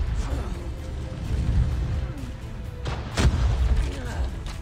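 Automated turret fire in COD Mobile: rapid gunfire bursts and sharp pops over steady game noise, with a strong crack near the end.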